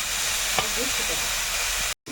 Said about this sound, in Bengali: এই চিংড়ি মাছটা দিয়ে দিলাম প্রথমে ভেজে দেবো মাছটা